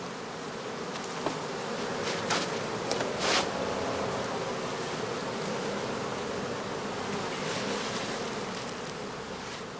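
Honey bees swarming around a straw skep hive in summer during heather blossom, a dense steady buzzing hum with individual bees passing close by.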